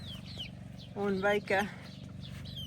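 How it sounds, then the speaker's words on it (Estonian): Backyard hens clucking close by, soft repeated clucks and chirpy calls around a brief burst of someone speaking in the middle. "Mu kanad tulid minu juurde."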